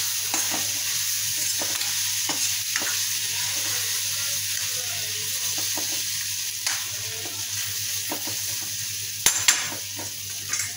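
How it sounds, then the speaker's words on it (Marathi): Steady sizzle of ground masala frying in a pan for stuffed brinjal curry, with scattered scraping strokes of a spatula stirring and a couple of louder clanks near the end. "हा मसाला घालायचा आता राहिलेला. चांगला असा परतून घ्यायचा"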